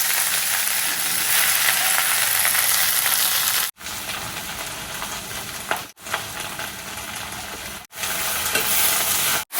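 Leafy greens fry in a pan with a loud, dense, continuous sizzle, cut by several brief stops and occasional stirring clinks.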